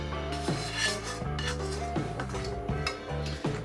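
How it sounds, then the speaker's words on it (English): Beef and curry sauce stirred in a slow cooker pot, a spoon scraping and clinking against the pot in several rhythmic strokes, close and clear with no talking. "give it a good stir around"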